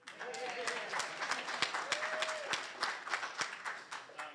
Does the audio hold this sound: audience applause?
yes